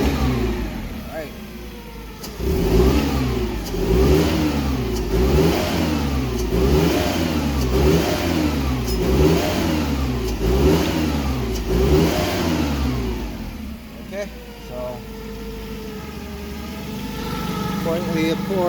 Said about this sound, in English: let's try to rev it up a couple times